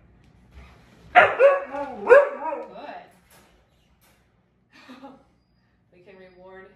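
A dog yips and whimpers in a short burst of excited, whiny cries during crate and recall training, then falls quiet, with a few faint, distant whines later. A person speaks briefly.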